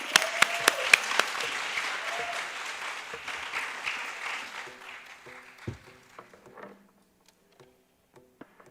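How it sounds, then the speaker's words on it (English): Audience clapping at an arangetram dance recital, a dense burst of applause that thins to scattered claps and fades to near silence by the end. "Let's give them a round of applause."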